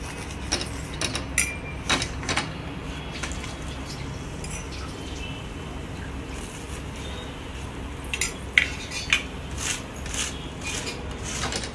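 Ghee is spooned onto a freshly made puran poli, with soft metallic clinks and light scraping of a spoon against the dish spread sparsely over a quiet background.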